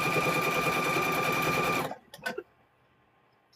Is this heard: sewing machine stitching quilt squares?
yes